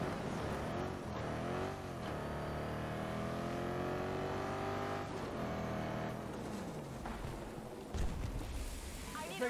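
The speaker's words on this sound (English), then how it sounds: "Wilco, the vehicle is on its way." A vehicle driving in the video game Battlefield 2042, a continuous engine hum with shifting revs and a rising and falling pitch, mixed with a faint background voice.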